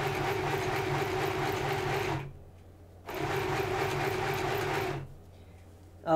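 A sewing machine stitches a Halloween costume in two loud, steady bursts of rapid mechanical whirring, each lasting about two seconds and separated by a short pause, heard close up with no talking.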